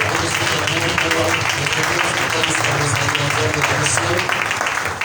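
A church congregation cheers and claps loudly and continuously in a dense, roaring wash of crowd noise, with voices speaking over it.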